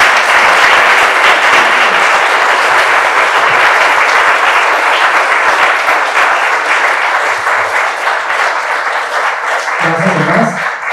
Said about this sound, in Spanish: un gran aplauso para la doctora